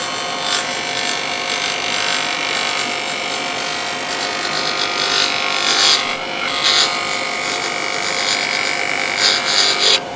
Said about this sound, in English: I'm letting the bevel ride on the wood. So I get a nice smooth cut.